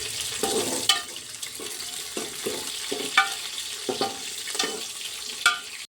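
Chopped onion with green chilies fries in a pan for vegetable pulao while a spoon stirs it, giving a soft steady sizzle broken by repeated scraping strokes at an uneven rhythm.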